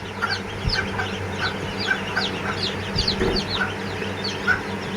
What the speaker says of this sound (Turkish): Bunlar köy civcivleri arkadaşlar.